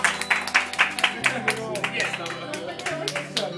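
Clapping at a 2012 birthday party: a steady patter of hand claps from a small group, close and lively, mixed with music playing underneath and some voices.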